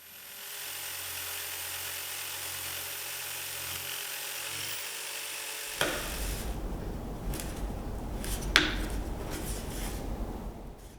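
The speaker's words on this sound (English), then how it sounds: "I just cut the straight sections out with a jigsaw" A jigsaw cuts straight sections from a wooden mid-century console stereo cabinet. A steady, loud buzzing drone runs throughout, turning rougher and more ragged midway, with a couple of sharp knocks.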